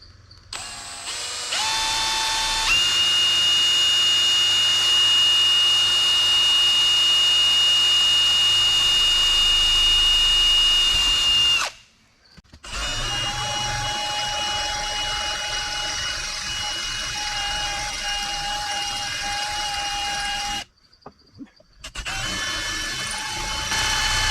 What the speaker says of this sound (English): I'll go ahead and just throw an 1/8" bit on and drill a pilot